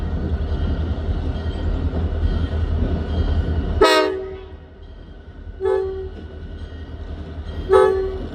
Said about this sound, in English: Train is heading south.